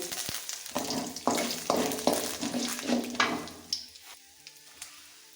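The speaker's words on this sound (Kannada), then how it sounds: "ಫ್ರೈ ಆನ್ ಮಾಡಿ, ಸ್ವಲ್ಪ ಕರಿಬೇವು" Curry leaves frying in hot oil, with a broad crackling sizzle broken by several sharp spatters and stirring clatters close by, fading toward the end.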